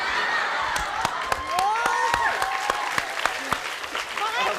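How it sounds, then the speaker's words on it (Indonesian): A television studio crowd claps steadily after a singing contest while voices shout and cheer over it, with sharp individual claps popping out close by. "Tepuk tangan untuk Oke"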